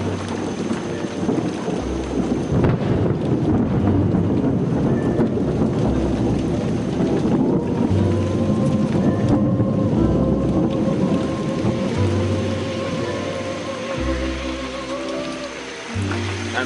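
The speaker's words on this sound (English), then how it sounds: "Truly, truly sick of the rain now." Heavy rain pours down steadily with a dense, roaring hiss, punctuated by low rumbles, continuous throughout with no voices.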